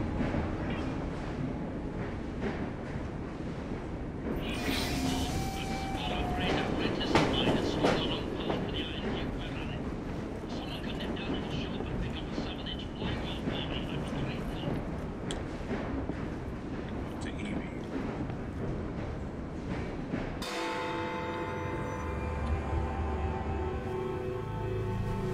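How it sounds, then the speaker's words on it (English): A train running in the video game Assassin's Creed Syndicate, a continuous rumbling, clattering roar under game music and voices, shifting to a lower, steadier rumble near the end. "Runaway train."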